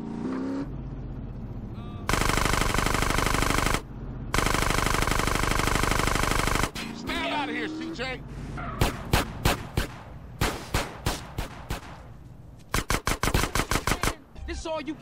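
Gunfire in GTA San Andreas as a gang attack on the Ballas plays out: long sustained bursts of automatic fire, then rapid rhythmic single shots in quick clusters, loud and close, with game sounds between.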